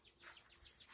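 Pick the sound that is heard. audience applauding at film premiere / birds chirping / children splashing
birds chirping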